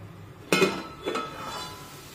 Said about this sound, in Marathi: कढईवरचं आपण झाकण काढूया.